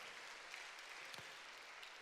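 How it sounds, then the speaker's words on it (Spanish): Faint, steady applause from a church congregation, a soft continuous patter of clapping that holds evenly for about two seconds with no voices over it. "Le vamos a dar un aplauso al Señor por eso."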